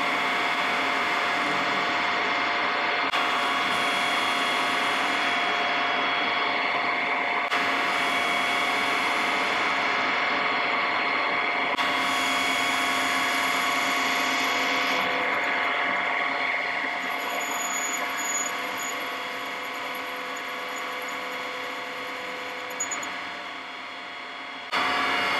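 A metal lathe turns a ball radius on the end of a half-inch steel shaft, with a knurled section, for a gyroscope build. The machine whirs and hums steadily, with a grinding mechanical drone throughout and no talk.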